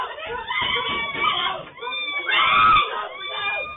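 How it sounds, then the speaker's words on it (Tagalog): Repeated screams for help come from inside a house in a neighborhood, shrill and strained, heard over muffled, low-quality audio with voices mixed in. "Dinig mula sa loob ng bahay ang sunod-sunod na sigaw na humihingi ng saklolo"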